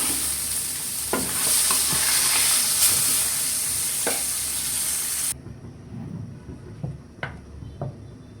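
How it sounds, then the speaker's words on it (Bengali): Fish sizzles loudly in hot oil in a pan while being stirred and turned, a steady frying hiss with scraping clatters that drops abruptly to quieter sizzling near the end. "মাছ ভাজা হয়ে গেছে, এবার উঠায় নিব।"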